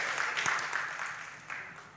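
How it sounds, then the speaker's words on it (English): Women in an audience at an MTN Pulse event clap for the men, a short burst of moderate applause that fades toward the end. "the women, clap for the men"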